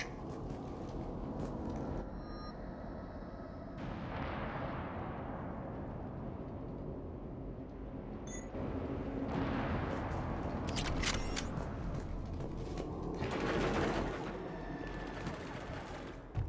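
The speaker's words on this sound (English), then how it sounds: "Shepard, I hear gunfire." Gunfire in Mass Effect 3 crackles in bursts over a rumbling, roaring background, with bright rapid volleys swelling and fading several times.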